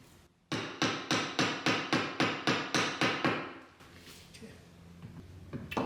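Light hammer taps during top-end assembly of a 1977 BMW R75/7 engine, about a dozen quick even strikes in a steady row, close and clear, followed by quieter workshop handling sounds.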